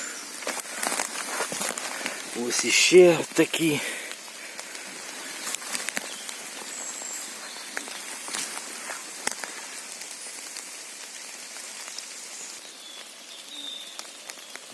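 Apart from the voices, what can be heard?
rain falling in the forest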